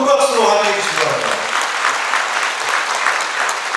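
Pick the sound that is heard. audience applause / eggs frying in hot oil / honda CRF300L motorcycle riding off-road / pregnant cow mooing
audience applause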